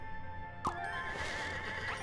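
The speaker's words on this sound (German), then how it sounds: "Und ein Pferd kriegst du noch." A horse from the game Scribblenauts Unlimited gives a sharp neigh followed by a long wavering whinny, clear and close, with a soft clip-clop feel beneath and no speaking.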